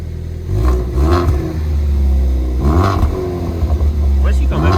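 A Ford Focus ST 2.0 250 hp yellow estate revs its engine, the exhaust note rising and falling in several swells, loud and close, with people talking over it.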